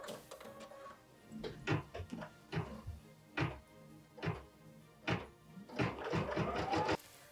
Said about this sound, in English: Machine step 5 is stitching the center fold line.